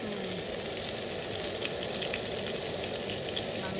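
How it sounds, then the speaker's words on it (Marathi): Bangda mackerel fish frying in a pan produce a soft, even hiss of oil with faint spitting, steady and fairly quiet throughout, with no voices. "बांगडे फ्राय होतात."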